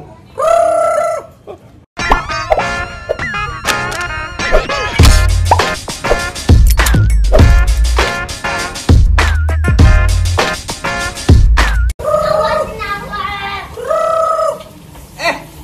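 A rooster crows loudly several times in a row, with clucking and other farmyard noise between the calls, close by and mostly without talk.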